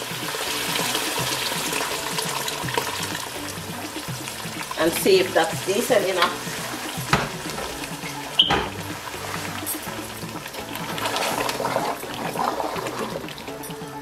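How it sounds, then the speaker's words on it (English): Water poured into a pot of jollof-style benachin rice with lamb gives a steady trickling, sizzling wash that runs throughout, with a few sharper clinks and stirring knocks; a voice talks briefly over it. "So we'll just add our water now."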